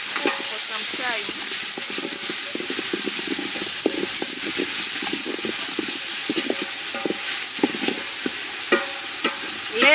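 Tomatoes for a fish stew sizzle and fry steadily in a pot over a village cooking fire, a close continuous hiss broken by frequent soft stirring clicks and scrapes, with no talking.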